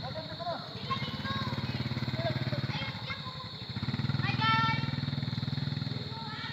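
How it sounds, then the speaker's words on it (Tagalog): A motorcycle engine runs steadily during riding practice, its low, even drone close by and continuous, rising briefly in strength midway while people talk over it throughout. "Ang atong topic karon is about riding motorcycle."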